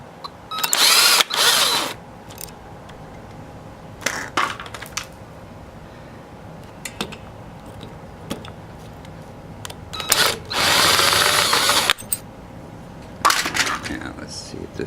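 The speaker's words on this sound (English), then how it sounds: "I'm using electric drill for it, but highly unrecommended." An electric drill whirs in several short bursts while removing a lawn mower carburetor, close and loud, separated by quieter gaps with small metallic clicks and handling noises.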